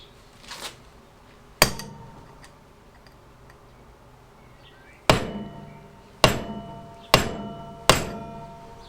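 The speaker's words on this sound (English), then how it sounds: "give it a couple of nice whacks." Hammer blows peening a part into the front drum brake of a classic Fiat 500: one sharp strike, a pause, then four more ringing metallic whacks at an uneven pace, close and loud with no talking.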